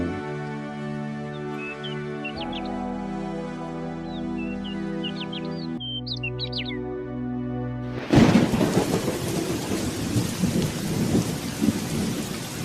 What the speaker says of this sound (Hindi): बारिश की बूंदें जैसे खेत को नहीं, रामलाल की आत्मा को सींच रही थी।